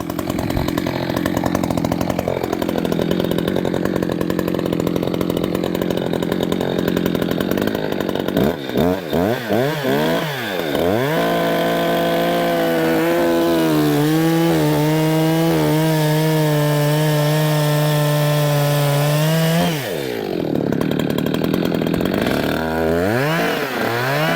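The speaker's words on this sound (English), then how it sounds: "All right, the saw's warmed up. Let's get into a couple of these cuts." An Echo 620p chainsaw bucks wood, loud and close, idling briefly before revving hard into sustained cuts where the engine note bogs and climbs under load, then drops back toward idle near the end, with no talking.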